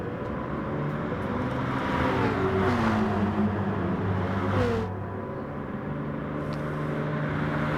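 GT Sport race cars at Monza, engines droning and revving steadily as a car screams past, pitch rising and falling over a constant motor roar, no voices.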